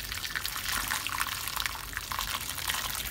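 Milk cooking liquid poured from a casserole over pork in a baking pan, a steady, soft splashing gush that runs evenly for a few seconds, close and quiet.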